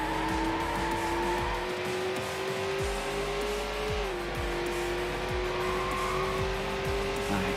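A Lamborghini Murcielago in the Need for Speed Hot Pursuit 2 racing game holds a steady, loud engine drone with rising and shifting pitch while tires squeal through corners, continuous throughout with no talk.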